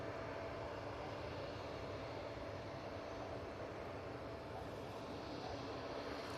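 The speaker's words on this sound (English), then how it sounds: "A321neo touching down" An Airbus A321neo airliner touching down at Manchester Airport, a broad, steady distant roar of engines and rushing air holding evenly throughout with no voices.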